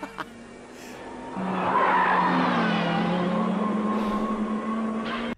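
A 1984 Lancia Delta S4 prototype rally car at a testing session accelerates with a rising engine note and squealing, skidding tires, starting faint and swelling to a loud sustained screech for several seconds before cutting off abruptly.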